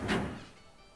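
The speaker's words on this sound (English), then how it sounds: "Let's go through that door." A door opening in the video game 999 (The Nonary Games), a single soft thunk with a short muffled whoosh at the start that fades away over the following second, quiet and without speech.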